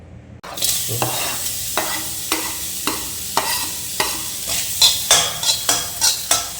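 Onions with cumin and spices fry in hot mustard oil, a loud sizzle bursting in as they hit the pan, then stirred with regular scraping strokes that grow quicker toward the end, no speech.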